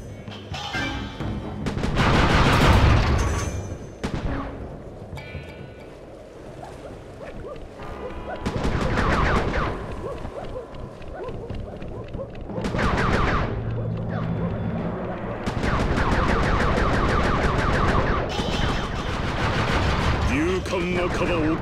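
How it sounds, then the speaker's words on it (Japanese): Fireworks fired in the PS3 game Sly 3 burst in repeated loud explosive blasts and crackles over dense game action and music. "キング、花火の狙いを慎重にね。"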